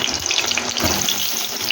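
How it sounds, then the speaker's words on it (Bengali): Potatoes for mutton kosha fry in oil in a wok, a steady close sizzle with no one talking. "কড়ার মধ্যে এবারে মাটনের আলুটা ভেজে দেবো।"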